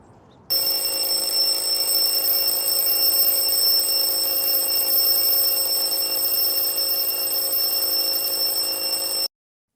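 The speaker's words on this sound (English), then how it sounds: "Don't get up when the alarm goes off." An alarm starts abruptly and rings at a steady, loud, unbroken pitch for about nine seconds before cutting off.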